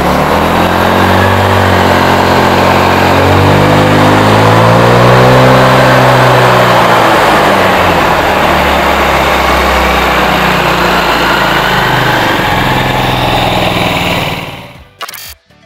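A scooter engine with automatic transmission revs up loudly and close, its pitch sweeping upward as the rear pulley opens at speed, then holds a steady high drone for most of the stretch before cutting off abruptly near the end.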